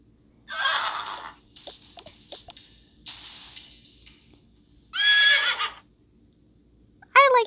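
A horse in the Toca Life video game neighs in several short whinnies separated by brief pauses, along with small chiming game sounds, all clear and close.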